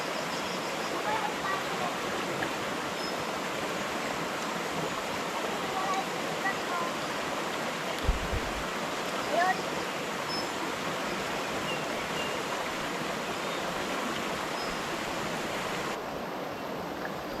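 Steady broadband rush of a clean river flowing, a constant wash of water with no clear breaks, heard outdoors at a family riverside lunch with a brief low thump partway through.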